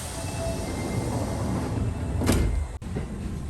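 A Kintetsu commuter train's sliding doors roll shut at night, ending in a sharp thud against a steady rumble of the idling train; no one speaks.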